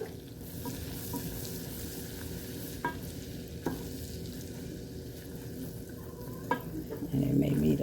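Flour roux for homemade gravy sizzles in a pan while a utensil stirs it steadily, with occasional scrapes and light clicks against the pan throughout.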